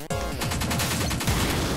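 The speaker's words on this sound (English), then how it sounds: "Ah, explosion!" A loud, sustained explosion burst in the game Pineapple Smash Crew, with rapid crackling blasts rolling over one another like gunfire for nearly two seconds.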